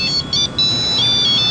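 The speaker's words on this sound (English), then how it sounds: "It's the buzzer thing they sound." A steady electronic buzzer tone sounds in Tiananmen Square with brief breaks, loud and constant over faint background noise.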